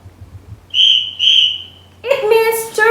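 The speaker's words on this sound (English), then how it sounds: "But if you hear whistle twice like this" A tour guide in Cebu City gives two sharp, shrill blasts on a whistle in quick succession, loud and close, followed right away by a voice speaking.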